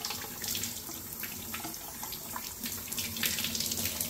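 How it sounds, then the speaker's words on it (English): Hot water running steadily from a tap to rinse a casino poker chip, a constant moderate splashing hiss throughout. "Hot water to rinse it."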